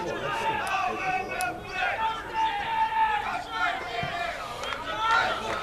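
Football supporters cheer and chant at a non-league FA Cup qualifying match between Basildon United and Thurrock, a small contingent of voices rising and falling steadily throughout, with no clear speech on top.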